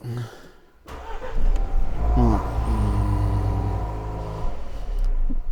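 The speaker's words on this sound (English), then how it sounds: "Now it should let me start the car without that connected because I've still got that." A Land Rover Defender L663 engine cranks and starts around two seconds in, then settles into a steady, fairly loud low idle rumble close by, with some background voice and handling noise around it.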